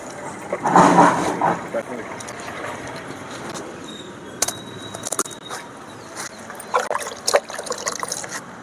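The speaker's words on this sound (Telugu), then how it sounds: "వాటర్ పోసేస్తున్నాం" Water poured onto soil around terrace garden plants, a gurgling splash at first that settles into a softer trickle and dribble, with a few small clinks and knocks nearby.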